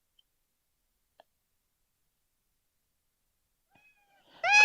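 A cat meows once in the Piofiore video game, a single short, clear mew arriving at the very end after near silence.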